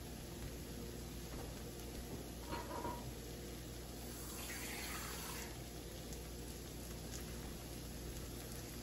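Liquid being poured into a 2.5 quart MEC clay pan while shakshuka cooks: a steady, faint trickling and pouring wash that holds for several seconds over a low background hiss.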